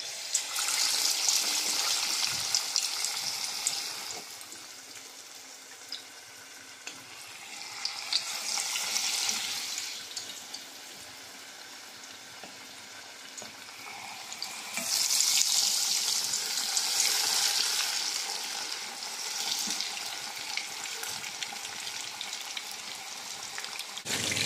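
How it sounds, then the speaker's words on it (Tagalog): Chicken pieces deep-fry in hot oil, a dense, continuous bubbling sizzle that swells and fades in waves, close and fairly loud, with no talking. "Umpisahan na natin iprito ang ating fried chicken."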